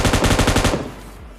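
M249 machine gun in PUBG Mobile Lite fires a rapid, loud burst of about a dozen evenly spaced shots, then a short echoing tail fades out.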